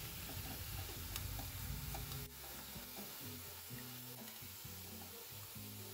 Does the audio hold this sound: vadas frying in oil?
yes